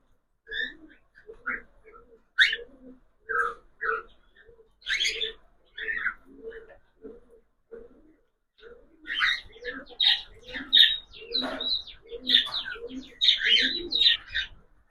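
Several cockatiels chirping and whistling in short repeated bursts, sparse at first and then busier and overlapping, fairly close with no talking.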